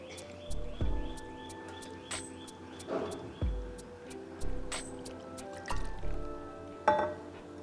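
Millet dosa batter being mixed by hand in a bowl, repeated wet squelching and sloshing strokes in a steady rhythm with occasional clinks, close and moderately quiet.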